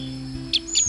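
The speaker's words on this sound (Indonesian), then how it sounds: "matahari belum terbit dan burung sudah mulai belajar ngeplong" Two short, high bird chirps sound close together over a low steady hum, with a thin whistle-like tone near the end, at dawn before sunrise.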